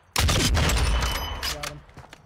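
Video game gunfire on Ashika Island opens with a sudden loud burst of rapid shots, then thins into scattered, fading reports, with a voice briefly speaking over it.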